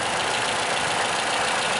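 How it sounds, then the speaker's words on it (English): Toyota Camry SE engine with a four-speed transmission idling up close, a steady loud rumbling hum without pauses. "As you can see, it's a beautiful, beautiful engine."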